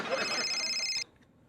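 A cellphone rings loudly and close in a continuous electronic trill, then cuts off abruptly after about a second, leaving quiet room tone.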